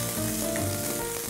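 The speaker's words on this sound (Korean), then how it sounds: "양파 반 개 정도 조금 도톰하게 채 썰어가지고 양파를 먼저 볶을 거예요." Thickly sliced onion frying in cooking oil in a pan, a brief, steady, close sizzle with no voices.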